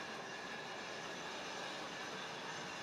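A model train rolls steadily along its track, a soft continuous whirring rumble with faint rail noise and no talking.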